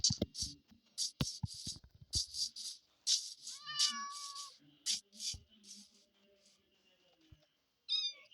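A Minecraft cat meows repeatedly being tamed with fish, a string of short, close, high-pitched mews in quick bursts, with a few clicks and soft noises between them.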